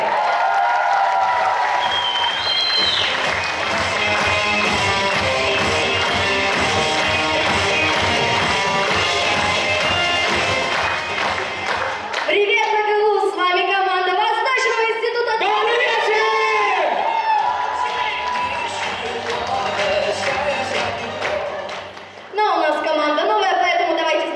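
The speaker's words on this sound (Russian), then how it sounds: "приготовьте свои ладошки для очень громких и несмолкаемых оваций" A KVN comedy contest audience claps and cheers loudly for a team taking the stage, dense sustained ovation with whoops that gives way to voices, laughter and scattered chatter later on.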